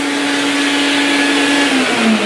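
Rainbow vacuum cleaner running at full suction, a loud, steady whining roar with a strong airy hiss and a tone that dips slightly near the end, heard up close and alone.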